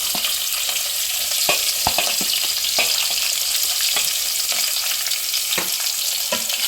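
Onions sizzle in hot oil with curry leaves and chilli powder, a loud steady hiss broken by sharp scraping clicks as a spoon stirs the pan repeatedly.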